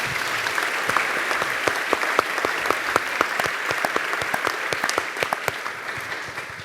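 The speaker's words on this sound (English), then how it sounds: "I just have to have a round of applause because they've got such an excellent panel together" An audience at a university climate forum gives a loud, sustained round of applause, dense overlapping claps filling the room from start to finish with no talking.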